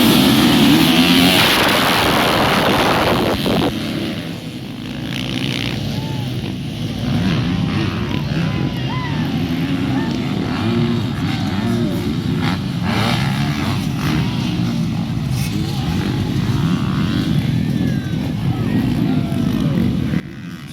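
A pack of motocross and enduro motorcycles revving together at a race start in South Thailand, a loud dense roar of many engines rising and holding with overlapping rasping throttle blips, close and sustained, with some voices underneath.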